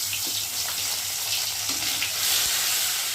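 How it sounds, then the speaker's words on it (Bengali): Pieces of fish frying hard in hot oil, a steady close sizzle with crackling bursts throughout, swelling slightly louder near the end, with no talking. "2 পিসটা ওরকম করে ভালো করে ভেজে নেব।"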